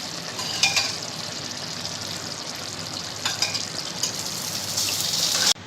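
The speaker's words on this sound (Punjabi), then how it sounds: "ਹੁਣ ਅਸੀਂ ਆਪਣੀ ਦਾਲ ਨੂੰ ਇਸ ਵਿੱਚ ਪਾ ਦੇਵਾਂਗੇ" Lentil dal poured into a pan of sizzling masala with melted jaggery for sambar, giving a steady close frying hiss with gushing liquid bursts and stirring, loudest near the end.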